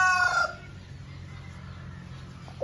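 A rooster crows once, loud and close, for under half a second at the start. It is followed by a quiet outdoor hum.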